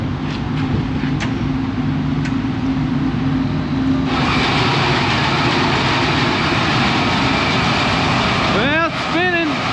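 A grain bin unloading auger runs with white corn, a continuous mechanical drone that grows louder and fuller midway, with a few squeaks near the end and a voice talking over it.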